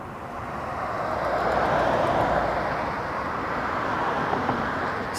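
A Cargolux cargo plane departs at night from Toronto Pearson Airport, a broad, steady distant jet roar that swells slightly and then holds, with no talk.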